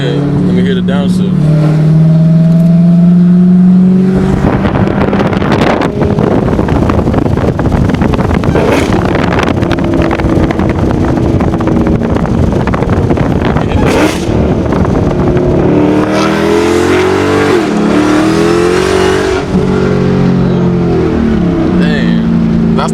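Hellcat Charger engine revs loudly, then winds down through downshifts with rising blips and a rumbling drop, mixed with wind buffeting and people chatting in the car.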